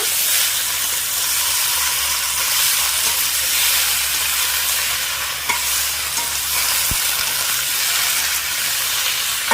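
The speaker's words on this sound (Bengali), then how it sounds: "লাউ ডাঁটা দিয়ে আমি কিন্তু বেশি ভাজবো না, হালকা করে একটু নেড়ে নেব।" Lauki stems tossed in a hot pan with fried potato and papaya, giving a steady, loud sizzle and hiss of frying that runs throughout, with occasional stirring scrapes and no talking.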